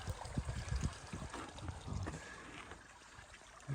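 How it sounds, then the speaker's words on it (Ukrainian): Spring-fed stream water flows and trickles in a quiet outdoor setting, a soft, continuous babbling with faint gurgles close by, with no talking. "Постійно така водичка йде."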